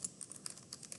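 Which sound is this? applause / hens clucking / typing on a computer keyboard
typing on a computer keyboard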